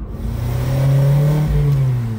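A Honda Integra Type R engine with VTEC revs up close by, its strong rising harmonic drone climbing steadily, dipping briefly and then pushing on, loud and alone with no voices over it.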